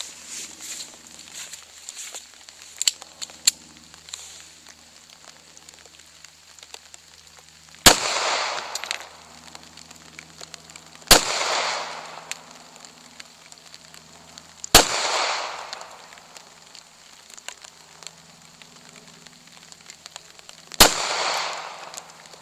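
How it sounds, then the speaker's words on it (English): Ruger LCP .380 pistol fitted with a Crimson laser, fired at old cans at a range: four sharp, loud reports spaced a few seconds apart, each with a short decaying echo, between faint rustling and handling noise. "let's do a little shooting of some old cans"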